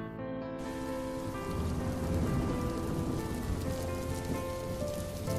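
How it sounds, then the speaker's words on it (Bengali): Light rain falls at night with a soft, even patter on surfaces, continuous and fairly quiet, with faint tonal background music behind it and no talking. "আচমকা মৃদু বৃষ্টি নামে"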